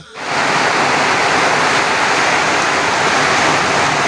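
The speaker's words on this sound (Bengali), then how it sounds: "তো আজকে প্রচুর পরিমাণে বৃষ্টি, ঝড় বৃষ্টি। তো ঝড় বৃষ্টির একাংশ আপনাদেরকে ভিডিওতে দেখাই" Heavy rain in a storm roars as a loud, dense, continuous wash of noise that swells in within the first half second and then holds steady and close.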